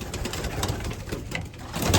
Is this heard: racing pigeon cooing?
yes